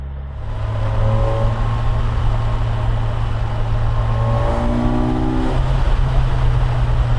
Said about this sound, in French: En sixième si j'accélère. Ouais. Ça part, tout en douceur, mais ça part.